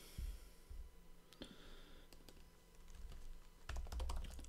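Typing on a computer keyboard, with irregular clusters of key clicks and taps, moderately close and fairly quiet, heard alone without any talk.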